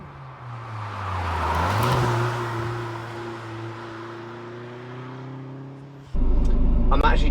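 Vauxhall VX220 Turbo, also sold as the Opel Speedster, idling and revving with a steady engine drone whose pitch climbs and settles, before a sudden louder rumble near the end.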